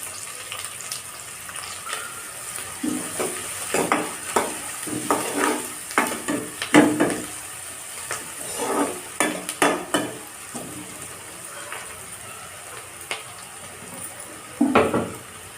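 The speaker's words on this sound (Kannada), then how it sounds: "ಅದಾದಮೇಲೆ ಈರುಳ್ಳಿ ಹಾಕೋಣ. ಈಗ ಸ್ವಲ್ಪ ಚೆನ್ನಾಗಿ ಫ್ರೈ ಮಾಡ್ಕೊಳ್ಳೋಣ." Onions frying in a pan for okra palya, with a soft sizzle under repeated scraping strokes of a spatula, uneven bursts of stirring spread across the whole span, close and moderately loud.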